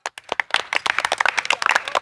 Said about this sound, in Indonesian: tepuk tangan dulu Aduh, untuk Ariana.